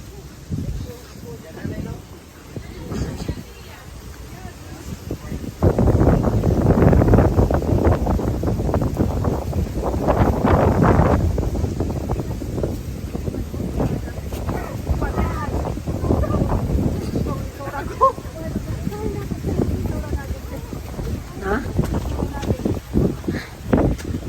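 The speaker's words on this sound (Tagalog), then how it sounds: "Ang lakas ng hangin." Strong seaside wind at a cove on Boracay roars and buffets the microphone in gusts, swelling loud midway, with a voice talking intermittently underneath.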